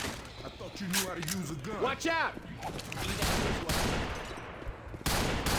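Revolver gunfire at zombies in the Left 4 Dead 2 video game with a US Ranger mod, several sharp loud shots spaced out across the clip, heard alongside excited talking.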